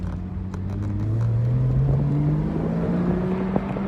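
A Porsche Boxster S engine, newly revived and out on its first drive, rises smoothly in pitch as it accelerates, kept below 4,000 rpm, with a steady drone and light road clatter and no talking.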